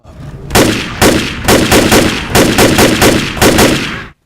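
Gunfire from the Left 4 Dead video game, fired in rhythmic bursts: about eight loud, sharp volleys spaced roughly half a second apart, each a dense crackle of shots with no talking.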